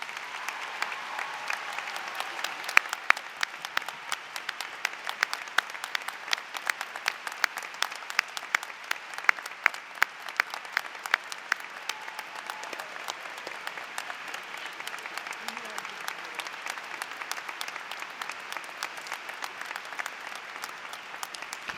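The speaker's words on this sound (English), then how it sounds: "Please join me in a great round of applause for Dr." Large high school graduation audience giving a long, sustained round of applause for a retiring principal, dense steady clapping with scattered sharper claps, lasting about twenty seconds.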